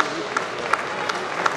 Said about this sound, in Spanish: Vamos, fuertes aplausos.